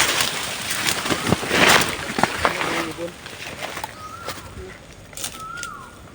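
A bird calls outdoors with a few short, sweeping whistled notes near the end, heard under people talking and rustling activity.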